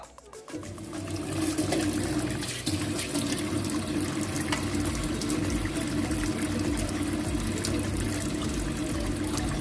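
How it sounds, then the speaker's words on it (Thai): Tap water runs steadily down an unclogged kitchen sink, a continuous close splashing and gurgling stream that starts abruptly and then stays alone at an even level. "หลังจากนั้นเราก็ทำการเปิดน้ำลงไปเลยครับ"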